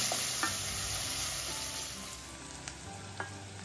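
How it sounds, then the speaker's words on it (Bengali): Chopped onions fry in hot oil in a pan, giving a soft, steady sizzle with a few small pops, heard close up and with no voices. "পেঁয়াজটা 2-3 মিনিট ভেজে নিচ্ছি।"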